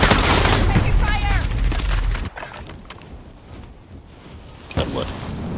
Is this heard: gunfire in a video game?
yes